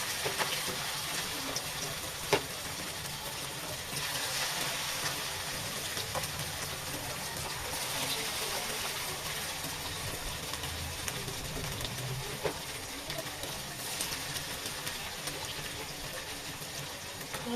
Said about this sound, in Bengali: এই যে ছাড়ছি একটা একটা করে পকোড়া এবার একটা একটা করে ছাড়ি তেল গরম বিশাল হয়ে গেছে